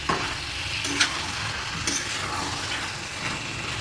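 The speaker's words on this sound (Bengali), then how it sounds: "এরপর আলুটাকে এত সুন্দর করে কষাতে হবে যাতে আলুটা কাঁচা বোঝা না যায়।" Potatoes and chicken frying together in a pan for a home-style curry, a constant moderate sizzle broken by a few soft scrapes of stirring.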